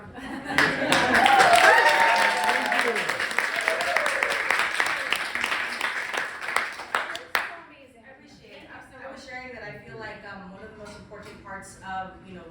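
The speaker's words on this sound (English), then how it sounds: "you just need to give this woman a round of applause" Audience applause at a financial literacy workshop for small-scale farmers and fishermen, loud clapping with cheers at first that fades after about seven seconds into scattered claps under a speaking voice.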